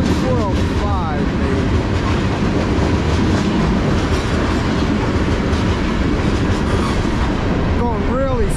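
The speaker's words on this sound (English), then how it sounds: "What a train this is." A slow freight train rolling past on the Lehigh Line, a loud, steady rumble with wheel clatter and brief squeals from the wheels, close by, with people talking faintly underneath.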